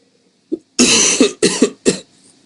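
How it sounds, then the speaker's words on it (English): A person coughs several times in a quick burst, loud and close, after a short throat sound, then falls quiet. "Sorry about the coughing."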